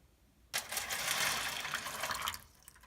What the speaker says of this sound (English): you are going to take some boiling water and pour it right into the bowl.